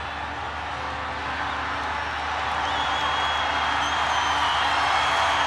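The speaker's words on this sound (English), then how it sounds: "The crowd awaits." A large stadium crowd at a Myanmar-Nepal football final holds a steady, dense roar that swells slightly toward the end, with no distinct claps or chants standing out.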